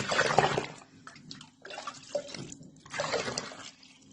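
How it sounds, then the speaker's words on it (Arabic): Water is poured into a well of flour for wheat country bread, making three short, close pouring and splashing bursts with pauses between them and no talk. "وهنا بقى هننزل بقى بالميه بتاعتنا في البقره اللي انا عملتها دي بتاعت الدقيق"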